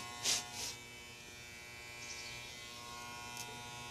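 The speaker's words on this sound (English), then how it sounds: "That's where you got to learn to use the corner edge of that clipper." An electric hair clipper hums steadily and faintly during a haircut, worked around the ears and back of the head. A couple of brief, louder buzzing bursts come near the start.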